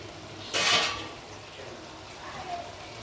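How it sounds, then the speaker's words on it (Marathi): A metal lid is set onto a cooking pot with a single brief clatter, followed by quiet kitchen ambience and faint simmering while Karadai (safflower) greens cook with moong dal. "दोन पाच मिनटं झाकण ठेव"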